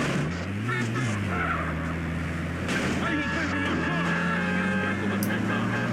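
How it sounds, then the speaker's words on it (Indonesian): Traffic in GTA San Andreas, with engine drones rising and falling as fast cars pass, heard close and fairly loud under a steady bed of game noise. "Waduh, mobilnya pada kencang-kencang dong"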